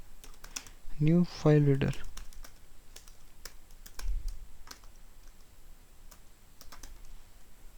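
Typing on a computer keyboard while writing code, scattered key clicks with a short burst of speech near the start and quiet pauses between keystrokes.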